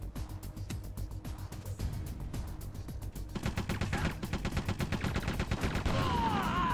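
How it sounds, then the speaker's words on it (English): Gunfire and blasts in Metal Gear Solid: The Twin Snakes, a steady rattle of rapid shots that thickens and grows louder midway, with sharp explosive bursts building toward the end. "I think one more grenade toss should do it."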